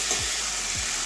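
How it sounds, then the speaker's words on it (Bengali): Potatoes and pumpkin are sautéed with spices in a pan, giving a constant close sizzle that fills the short moment with no voices. "এগুলো ভালো করে মশলার সঙ্গে কষিয়ে নেব"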